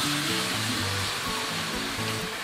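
Chopped onions hit hot oil in a pot as the base for kadhi pakora, giving a steady, close hissing sizzle that runs without a break.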